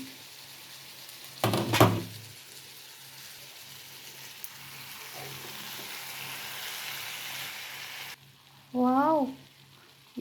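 Liver curry gravy sizzles steadily in a pan with a continuous close frying hiss. A clattering stir comes early, and a brief voice-like sound rises near the end.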